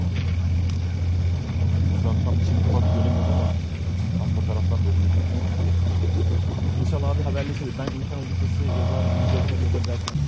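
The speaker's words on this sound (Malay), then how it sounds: "Dengar tak bunyi diorang punya engine boat? Engine boat Israel ni, dengar tak?" Israeli boat engines at sea near a flotilla make a continuous low droning rumble, while a voice speaks repeatedly over the top.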